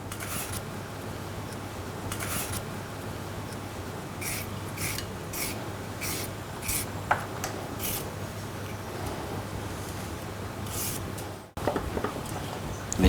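A long turnip is peeled by hand in a kitchen, giving quiet, scattered scraping strokes against a faint steady hum, with a sharper clack near the end.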